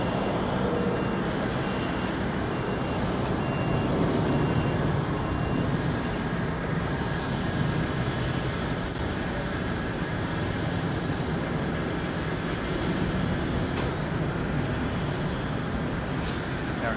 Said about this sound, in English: 767 next to land after the 777.